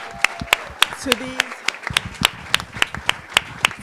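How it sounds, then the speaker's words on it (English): At a 2023 regional youth congress, an audience claps in crisp, evenly spaced beats that repeat steadily, while a speaker briefly talks over them. "please, let's give another round of applause"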